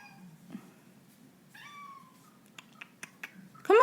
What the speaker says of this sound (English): he's meowing and I don't know what's wrong